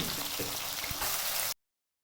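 Onions and green chillies frying in oil, a dense continuous sizzle heard close up for about a second and a half before cutting off abruptly to silence.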